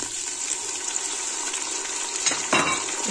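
Tomatoes go into light-brown onions frying in a pan for keema, giving a constant close sizzle. Near the end a wet burst and a scrape sound out as the tomatoes drop in and are stirred.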